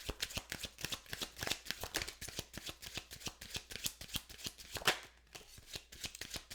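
Tarot cards are shuffled steadily and up close, a rapid run of crisp riffling flicks broken by one sharp slap, with a brief pause near the end before the riffling picks up again.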